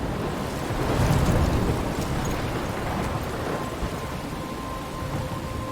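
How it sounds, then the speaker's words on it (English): Thunderstorm in the video game Life is Strange Remastered, a dense, steady roar of heavy rain and wind with a rolling rumble of thunder swelling early on, loud and continuous throughout. "I'm trapped in a storm? How did I get here?"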